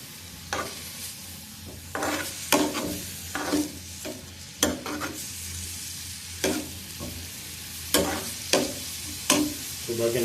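Onions frying in oil in a pan until light brown, with a steady sizzle under repeated sharp scraping strokes of a spoon stirring the pan, close and moderately loud, no talking.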